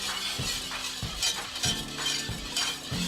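A spoon stirring peanut butter fudge mixture in a pot, giving repeated rhythmic scraping and clinking strokes roughly every half second, close and moderately loud, with no talking.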